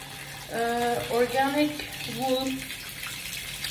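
Tap water runs steadily into a sink where woolen laundry is being soaked, a continuous broadband wash beneath someone talking close by.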